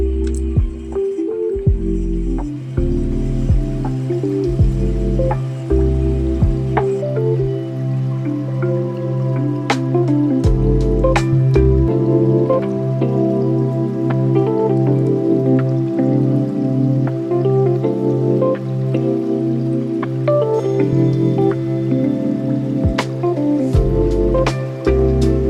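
Aquarium filter wool being rinsed and squeezed in a container of water for a flowerhorn tank, with steady close sloshing, dripping and squishing throughout and no talk.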